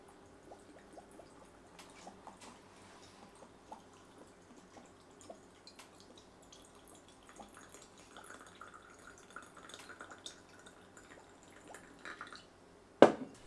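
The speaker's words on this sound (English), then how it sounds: "pour in enough rice vinegar to fully cover the garlic plus at least 3 centimeters." Rice vinegar is poured into a jar over garlic and chilies for Vietnamese pickled garlic, with faint scattered drips and trickles that build into a quiet, steady pour, ending in one sharp knock.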